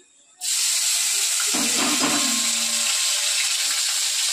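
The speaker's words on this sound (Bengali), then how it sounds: "ডাল ফোড়ন দেব বলে পেঁয়াজ লঙ্কা চিড়ে নিয়েছি" Chopped onion and chili dropped into hot oil to temper cooked dal, a sudden loud, steady sizzle and hiss that starts abruptly and carries on close by without a break.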